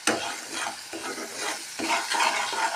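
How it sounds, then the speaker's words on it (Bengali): Spices sauté in a pan before potatoes go in, a close, loud sizzle broken by rhythmic scraping strokes of a spatula, no voices. "এই যে এখানে মশলা একটু কষিয়ে তারপর আলু দিয়ে দেবো।"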